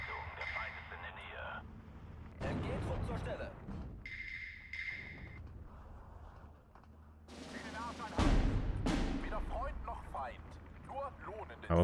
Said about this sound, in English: I'll just bring in like all of my 120mm mortars here.